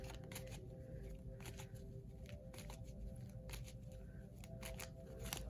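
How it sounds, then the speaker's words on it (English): Tarot cards shuffled and drawn in a reading, giving repeated crisp riffles and soft slaps in irregular bursts over a steady low background hum, close and fairly quiet. "I'm going to pull a couple more cards."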